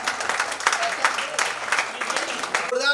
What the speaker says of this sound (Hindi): तो आप इनके लिए तालियां बजाएं।